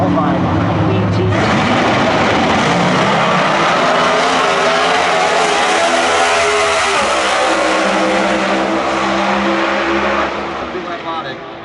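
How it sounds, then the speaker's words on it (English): Factory Stock Showdown drag race cars at zMAX Dragway roar in a loud, sustained full-throttle blast that rises in pitch, then fades near the end as the cars head down the track. "in a race car that's on the racetrack right now"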